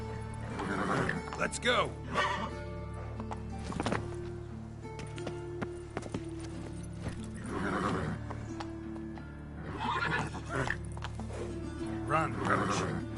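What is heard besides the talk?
Geralt's horse Roach galloping and neighing, Witcher 3 video game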